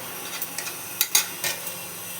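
Minced garlic frying gently in butter in a pan, a soft steady sizzle broken by a few light scraping stirs, quiet and close.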